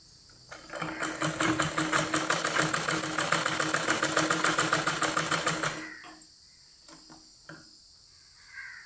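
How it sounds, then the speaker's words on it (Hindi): A sewing machine runs steadily for about five seconds, stitching along a folded edge of cloth, its rapid needle rhythm close and fairly loud, then stops, followed by a few faint clicks and handling sounds. "तो उसके लिए हम चीन के किनारे सी देंगे।"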